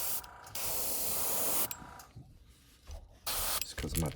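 An Iwata airbrush sprays paint onto a fishing lure in steady hissing bursts of a second or so, separated by short pauses, close and fairly loud, with brief sounds of handling between sprays.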